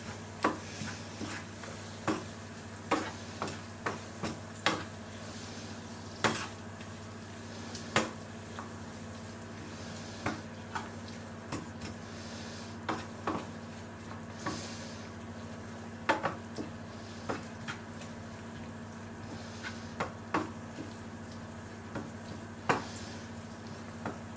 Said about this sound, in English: dark brown sugar, just like a teaspoon or two. Mix that in.